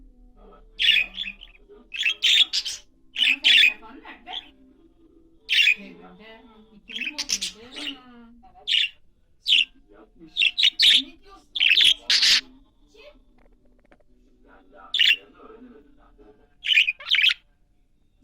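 Repeated sharp squawks and chirps from a nearby pet bird in irregular bursts, with a person speaking quietly in Turkish in between.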